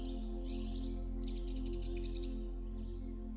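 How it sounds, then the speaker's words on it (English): Superb fairy-wrens give bursts of high, thin chirps and trills, several short clusters close together, with one longer rising whistle near the end over a steady low background hum. "These wrens appear so delicate"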